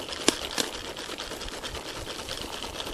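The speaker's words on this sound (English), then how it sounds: "You'll hear kernels still popping a little bit." Jiffy Pop popcorn in its foil pan being shaken over heat, giving a steady rustling, scraping rattle with a couple of sharp isolated kernel pops near the start.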